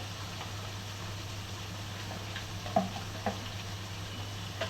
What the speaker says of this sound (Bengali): এই যে বুটের জলটা দিয়ে দিচ্ছি